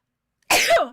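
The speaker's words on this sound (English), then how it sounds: "I think that's the first time I've ever sneezed on air." A single sharp sneeze, close and loud, bursting suddenly out of silence and trailing off within half a second.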